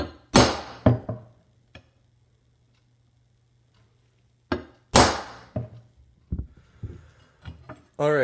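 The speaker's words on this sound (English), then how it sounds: "So I'm going to center punch them." Sharp metallic taps of a center punch striking a steel knife blank, a few spaced hits followed by a cluster of quicker strikes, close and loud against a quiet workshop hum.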